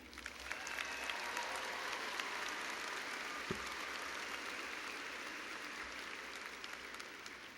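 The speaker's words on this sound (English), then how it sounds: "Let's applaud them as well." A large commencement crowd gives steady, distant applause for graduates' families, a continuous even roar of many hands with no talking over it.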